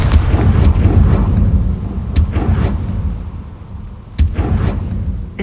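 A fiery Confringo blast spell goes off in Hogwarts Legacy, a deep rumbling burst with several sharp cracking impacts scattered over a low roar, loud and close, with no talking.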